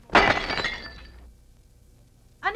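Glass smashes loudly in a home and the shards clatter and tinkle as they settle, then fade into quiet before a voice speaks up briefly at the end.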